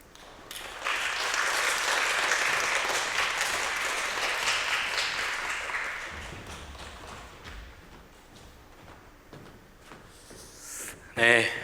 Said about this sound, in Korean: 우리 임지규 형제님, 우리 박수로 다시 한번 축복하도록 하겠습니다.